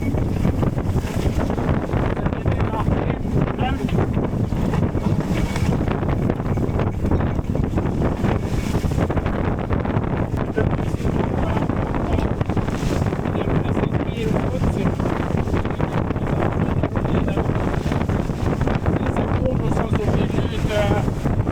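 Steady, loud wind roars across the microphone on a sailboat beating into a headwind, with water rushing and slapping along the hull throughout and no clear break.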